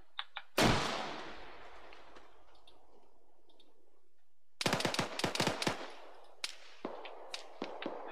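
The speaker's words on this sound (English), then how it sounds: "Who the fuck's shooting at me?" Gunfire in the military shooter game Arma 3: a loud single crack with a long decaying echo, a pause, then a rapid burst of repeated shots followed by scattered sharp single reports, no talking.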